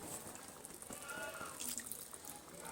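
Rose water poured into a pot of egg biryani gravy, a faint continuous liquid trickle under a light kitchen background hiss, steady for a few seconds.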